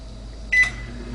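A short electronic beep from an Amazon Smart Oven starting to air fry, a single brief tone over a low steady hum.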